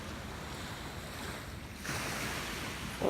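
Sea waves wash in a steady broadband rush with a swell of surf near the end, heard alone without speech.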